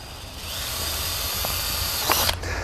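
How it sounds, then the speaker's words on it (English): A steady high-pitched whine of a cordless drill running continuously, close by, drilling holes for an operating box, with a brief rise in pitch and strain near the end. "taking his cordless drill, he's going to make the appropriate holes for the operating box"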